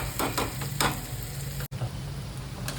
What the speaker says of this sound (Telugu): ఫ్రై అయిపోయిందండి కారం అయితే.